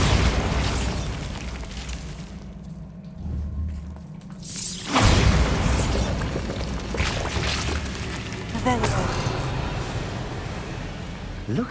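Bombarda spell explosion in the Hogwarts Legacy video game, a sudden loud broadband blast bursting in after a quieter stretch, with a second burst later and a busy rumbling game soundscape around it.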